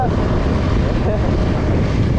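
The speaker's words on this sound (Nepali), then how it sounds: "हावा यस्तो तुफान आइरहेछ" Strong gusts of wind buffet an outdoor microphone at a hillside road bend near Ghorahi, a steady low rumbling roar that fills the whole stretch without letting up.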